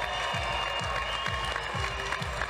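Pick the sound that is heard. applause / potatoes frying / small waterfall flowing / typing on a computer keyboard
applause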